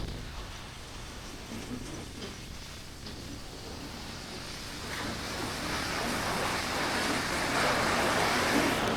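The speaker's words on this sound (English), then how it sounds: "Look at this, look at the waves." Strong wind roaring across the Mediterranean coast at Limassol, Cyprus, with waves surging and breaking; a steady broad rush that builds louder toward the end, with no talk.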